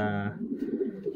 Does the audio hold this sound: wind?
no